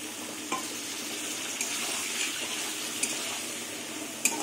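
Turmeric and chili powder sizzle in a pan with a splash of water while pointed gourd cooks with fennel seeds. The frying hiss is steady and moderately quiet, broken by a few sharp clinks of stirring.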